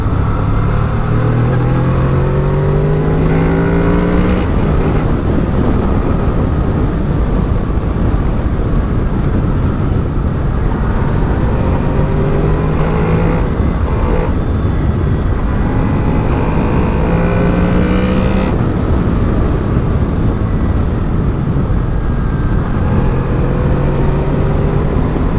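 A 2018 Honda VFR800 motorcycle rides a gravelly, bumpy, narrow road, its engine droning loud and continuous under heavy wind roar, with pitch rising and falling through gear changes.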